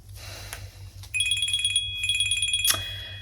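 An electronic phone ringtone plays a repeating melodic trill in two bursts, fairly loud and close, over a low steady hum.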